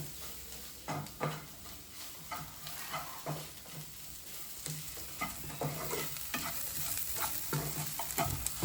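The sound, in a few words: stirring and frying black beef roast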